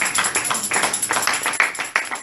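A church congregation claps for the king of kings in quick, steady rhythm, a close and lively burst of many hands with a faint murmur of voices underneath.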